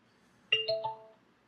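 A homemade Bluetooth boombox plays a short two-tone ding-dong chime, clear and close, with a brief ringing decay in an otherwise quiet room.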